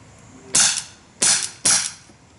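BB gun pellets strike a cheap indoor-outdoor carpet backstop in three sharp, loud impacts: a single hit, then two more in quick succession, each decaying briefly in a quiet indoor space.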